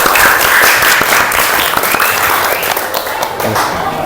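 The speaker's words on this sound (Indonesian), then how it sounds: "Tepuk tangan untuk kita semuanya." A classroom of students claps together in steady, loud applause that fills the room, holding evenly from start to finish without a break.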